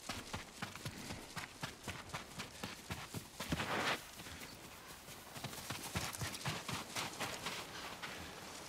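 Horses walk on ground in the video game Ghost of Tsushima, a steady, rhythmic clip-clop of hooves repeating throughout, moderately close with a brief louder shuffle midway.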